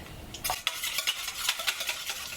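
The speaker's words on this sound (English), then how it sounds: "I'm going to give that a little bit of a whisk just to get things started" An egg whisked in a bowl, a quick, fairly quiet run of rhythmic light clicking and swishing strokes close by after a brief pause.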